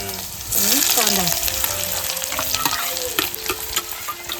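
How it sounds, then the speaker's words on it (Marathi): Garlic frying in oil over a wood-fired chulha stove for a Mandeli fish curry, a steady close crackling sizzle that jumps in loudness at the start, with scraping stirs and clinks throughout and no talk. "लसूण बघा मस्त तेलामध्ये"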